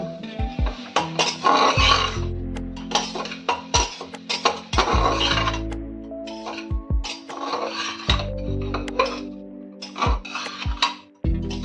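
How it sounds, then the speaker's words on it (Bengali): Vegetables and spices for chicken soup being stirred in a pot, with repeated close, loud scraping strokes of a utensil against the pot and occasional metallic clinks in an uneven rhythm, with no talking. "কিছুক্ষণ এইভাবে ভালো করে নেড়ে ছেড়ে নেব যাতে প্রত্যেকটা সবজির মধ্যে মশলাগুলো ঠিকঠাক ভাবে হয়ে যায়"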